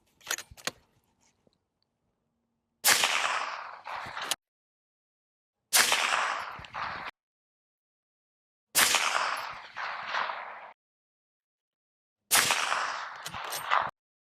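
A rifle fitted with a lightweight, HUB-compatible Resilient Jolene 30-caliber silencer fires five sharp, muffled shots, spaced a few seconds apart, each a loud crack followed by a brief decaying tail, with silence in between.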